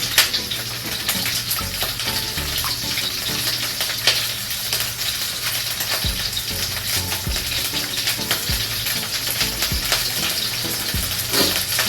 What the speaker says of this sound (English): Go ahead and keep giving this a stir till everything is mixed together.